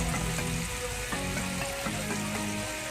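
Ground pork sautéing in a pan for chayote gisado gives off a steady, continuous sizzle, with a repeating musical tune playing underneath.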